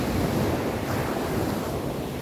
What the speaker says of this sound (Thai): มาเห็น น้ำทะเล นะครับ เป็นคลื่น